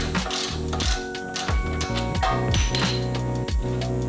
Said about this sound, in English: After you get the nut off the bolt, continue unscrewing the bolt from the other sides.